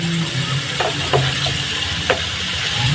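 Sautéed chayote and ground meat sizzle steadily in a frying pan while a utensil stirs, with a few soft scrapes and clinks against the pan over a constant frying hiss.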